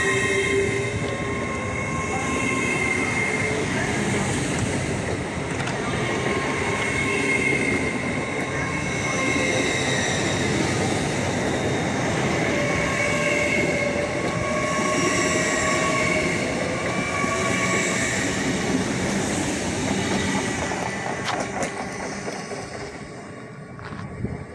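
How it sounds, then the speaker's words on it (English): A class 800 train pulls out of York station toward London King's Cross, a steady rolling rumble with wheel squeal and clatter that stays loud and close for the whole stretch, easing slightly at the end. "800-102 departs the service off to London King's Cross."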